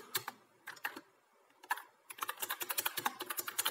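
Typing 'heroku login' on a computer keyboard: a few isolated key taps, a pause, then a quick steady run of close, crisp keystrokes, with no talking.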